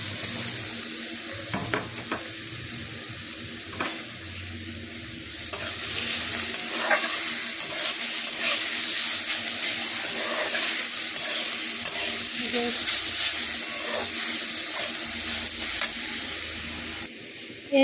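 Mushrooms fry with onions in a kadai, a steady close sizzle with the scrape of stirring throughout, growing slightly louder partway and continuing without talk.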